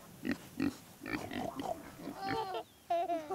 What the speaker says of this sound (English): The pigs make this sound.